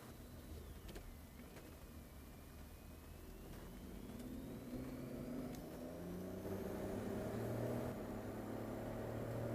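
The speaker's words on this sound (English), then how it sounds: "This is a fun car to drive for an SUV." A BMW X5 SUV on a road test at high speed, giving a steady broadband road and engine roar that slowly swells louder, heard alone with no talking.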